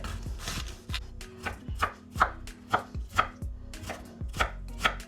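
Cabbage is chopped with a knife on a board for a cabbage pie filling, and the knife gives about a dozen crisp, evenly spaced thuds nearby with no talk.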